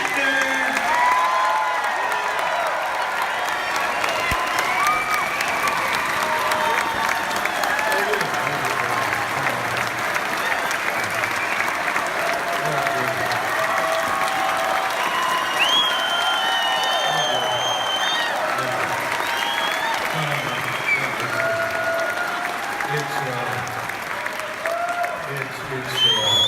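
A large live audience gives William Shatner a sustained ovation, with loud continuous clapping, cheers and whoops filling the room for the whole stretch, and no clear speech above it.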